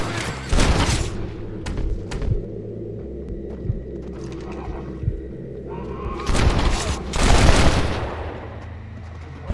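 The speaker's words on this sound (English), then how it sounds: "Stop shooting at me!" Gunfire from Red Dead Redemption on PS4 erupts in two loud bursts of rapid, overlapping shots, one near the start and a heavier one toward the end, with mechanical clatter and quieter rumbling between them.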